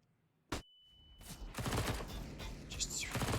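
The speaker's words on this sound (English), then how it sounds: "Cirque taking some shots away with that SMG at a long range." SMG fire in Counter-Strike at a professional match, a sharp single shot followed by bursts of rapid automatic fire and clattering impacts, with a commentator talking over it.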